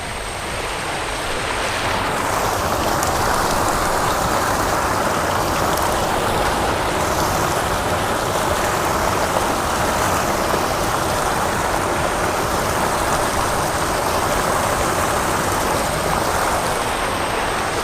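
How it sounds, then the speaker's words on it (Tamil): Hands are washed in a flowing river, with steady broadband rushing water filling the whole clip at close range and no speech. "ஸோ நம்ம கையை கழுவுவோம்"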